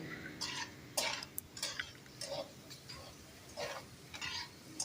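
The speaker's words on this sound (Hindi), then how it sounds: "अब इसमें अच्छी तरह इसको मिक्स करेंगे।" Boiled mash dal being stirred into masala in a pan, with repeated scraping and clinking of a spoon against metal in an uneven rhythm, fairly quiet and close.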